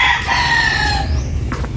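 A rooster crows loud and close in a single cock-a-doodle-doo, rising and then trailing off, with a brief cluck near the end.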